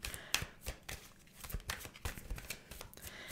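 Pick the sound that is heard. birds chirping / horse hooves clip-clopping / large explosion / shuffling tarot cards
shuffling tarot cards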